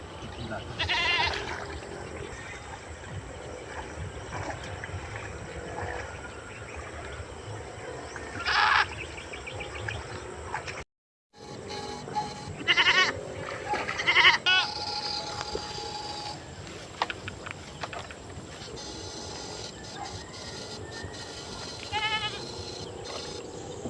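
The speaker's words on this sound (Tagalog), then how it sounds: "maingay kasi yung kambing" Goats bleat intermittently outdoors amid constant background noise and people talking, with a brief dropout midway.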